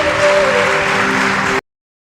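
An audience claps together for a charitable trust's food service, a dense, loud, even roar of applause that holds for about a second and a half and then stops abruptly.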